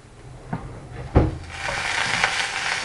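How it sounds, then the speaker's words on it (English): Vegetables, including carrot, for a hearty miso soup sizzle in a cooking pan; a couple of knocks from stirring come first, then a steady, moderately loud frying hiss builds and holds. "Can you hear that sizzling?"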